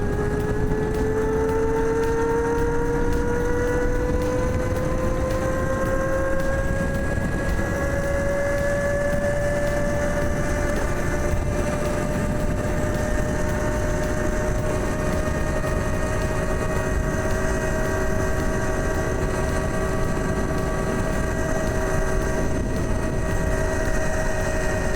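A $1,300 electric dirt bike from Amazon climbs a hill with a steady motor whine whose tones glide upward, running continuously over loud wind rumble close to the rider.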